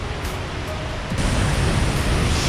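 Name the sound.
water rushing through Croton Gorge Dam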